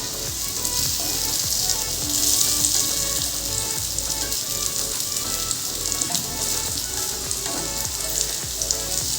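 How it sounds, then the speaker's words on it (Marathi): Colocasia leaf rolls (alu vadi) fry in hot oil with a steady, dense crackling sizzle that holds up throughout, close and fairly loud, with no voices over it. "तुम्हाला आता वडी तळताना दिसेल की किती कुरकुरीत झाली ती."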